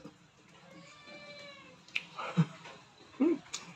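A cat meows in a drawn-out, wavering cry, fairly faint and close, followed by a few short sharp taps or snaps and brief scuffling noises.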